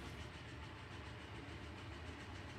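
A train runs steadily in the industry-building game Captain of Industry, a constant low rumble with faint clickety-clack, unbroken and moderately loud with no voices.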